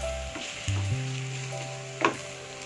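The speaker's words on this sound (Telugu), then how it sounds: "కొద్దిసేపు వేయించుకోవాలి." Boiled jackfruit seed pieces fry with masala in a pan, giving a steady, moderate sizzle with a brief louder crackle near the end, with no talking.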